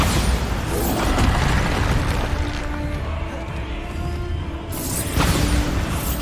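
Bombarda blasting spell explosions in Hogwarts Legacy, a rumbling burst with debris and crackle, then a second sharp blast near the end, loud and close.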